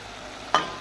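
Spice paste of chili, cumin and coriander frying in hot oil gives a short, close sizzle that flares suddenly and then settles into a steady hiss.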